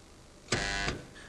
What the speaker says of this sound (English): It's a form of resistance welding known as spot welding.